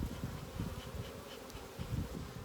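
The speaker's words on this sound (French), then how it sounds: "Je vais mettre juste un petit peu de fumée là, pour tasser les abeilles." Honey bees buzzing around a nucleus hive, a faint, dense, continuous hum with individual wingbeats rising and falling close by.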